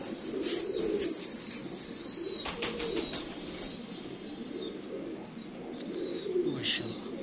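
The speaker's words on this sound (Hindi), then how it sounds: "कई शानदार कबूतर" Prized breeder pigeons coo steadily in their loft, soft rolling calls overlapping for several seconds, with faint chirps and a few wing flaps nearby, no talking.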